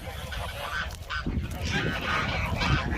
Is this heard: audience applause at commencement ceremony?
no